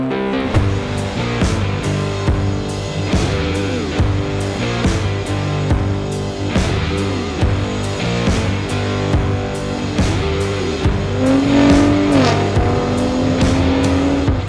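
A 2022 Ford F-150 Raptor pickup truck launches hard with a brake boost, its engine roaring loudly and close. The pitch sweeps up again and again through rapid gear shifts, with no voices.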